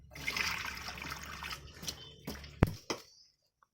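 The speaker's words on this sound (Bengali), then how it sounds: "এইভাবে কয়েকবার ধুয়ে নিল চিকেনটা।" Tap water runs steadily over raw chicken being washed in a home kitchen, a close, continuous splashing trickle that ends with a few sharp clatters and drips before silence.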